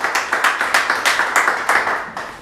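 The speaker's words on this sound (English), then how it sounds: "That your clapping is so little." A church congregation claps its hands in a steady, fairly fast rhythm, about five claps a second, loud and close, with no speech over it.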